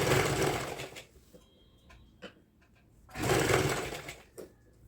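Piping is stitched onto a kurti on a sewing machine, heard as two loud, close motor runs at the start and end, separated by a quieter stretch of small ticks and handling clicks.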